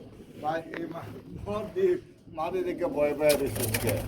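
Pigeons coo in throaty, repeated rolls at a pigeon market where running pigeons are sold, with people talking nearby and a few clacks near the end.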